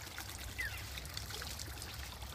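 Filtered water trickles and pours in a steady, quiet stream, a continuous faint splashing with no voices.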